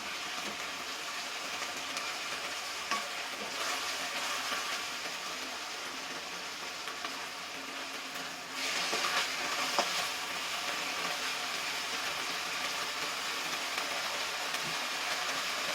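Kimchi fried rice frying and being stirred in a pan, giving a steady broadband sizzle with scraping stir strokes throughout, briefly louder midway, with no talking.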